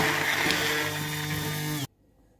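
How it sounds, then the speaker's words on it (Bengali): An electric blender whirs steadily while blending bullet coffee made with jaggery and barley, a loud continuous motor drone that cuts off abruptly after about two seconds. "এবার আমি ব্লেন্ড করে নিচ্ছি।"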